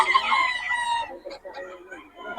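A young gamecock, a stag of about four to five months, crows at a busy Bocaue market, its long harmonic call ringing close and loud for about a second before fading into market chatter and voices.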